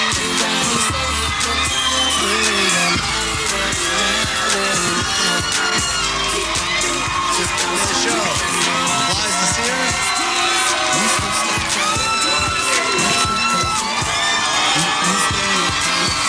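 A live studio crowd at a TV music show cheers, whoops and yells loudly and continuously, a dense roar with shouting throughout.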